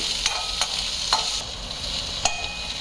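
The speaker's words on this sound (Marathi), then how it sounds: "थोडीशी परतून घ्यायची" Vegetables sauté in a pan under a steady, fairly quiet sizzle, punctuated by several sharp scrapes and clinks of a spoon stirring against the metal at an irregular rhythm.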